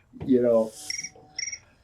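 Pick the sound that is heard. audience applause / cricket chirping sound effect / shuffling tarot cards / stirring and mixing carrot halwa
cricket chirping sound effect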